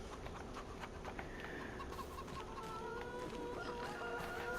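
Chickens in Farming Simulator 25 on the Rudniki map cluck and chatter softly in a steady flock, with overlapping calls and no voices.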